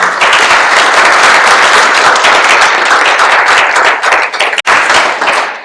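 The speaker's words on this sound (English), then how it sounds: "let's give them a round of applause" A loud, dense round of audience applause for speakers and panelists at a university petroleum engineering society's technical exhibition, sustained and even with a brief dip near the end.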